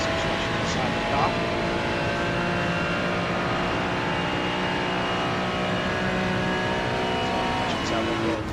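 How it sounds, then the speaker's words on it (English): Ferrari race car engine in a racing video game, a sustained high whine with shifting harmonic pitch as it revs and holds, steady and loud without a break. "A lot of these cars you can tell from the engine noise."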